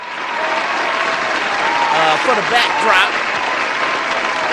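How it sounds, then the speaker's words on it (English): Applause from a small gathering during a casual interview, a steady wash of clapping with someone talking over it near the microphone. "let me give you a round of applause"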